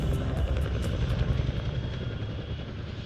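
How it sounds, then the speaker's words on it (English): An RAF Chinook HC-6A helicopter flies a solo airshow display, giving a loud, rumbling rotor noise with rapid rhythmic blade thumps over a steady engine drone. "Another rotary asset, the RAF Chinook HC-6A, performing its typically spirited solo routine."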